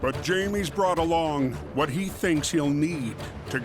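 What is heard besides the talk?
No distinct noise like a dog, phone or traffic.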